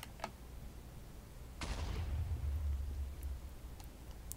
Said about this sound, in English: this is more of an explosion than earlier